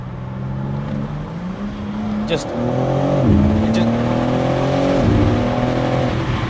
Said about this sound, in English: Sports exhaust is on.